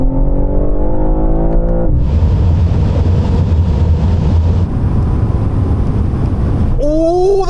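BMW M3 Touring and Audi RS6 accelerating hard in a half-mile roll-on drag race from 50 in third gear, engine note droning loudly through gear changes under heavy wind roar, then a revving engine rising near the end.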